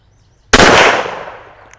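A single sharp Walther WMP pistol shot cracks loudly at an outdoor range, its report ringing out and decaying over about a second, with no voices.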